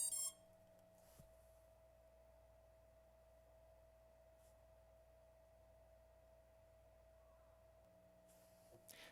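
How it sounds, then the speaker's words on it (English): A flight controller on a freshly built FPV drone, plugged in over USB, gives a short faint electronic beep at the start and another near the end, over a steady low hum and a sustained tone. "I didn't get the second set of beeps"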